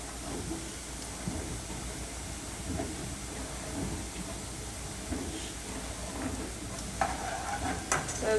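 Lentil mixture sizzles and crackles steadily in a pan, a continuous close frying hiss with occasional sharper pops and faint stirring, no voices.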